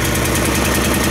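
A snowmobile engine idles steadily while warming up in cold Siberian conditions, a loud, close, continuous mechanical rumble with a rapid knocking pulse and no breaks.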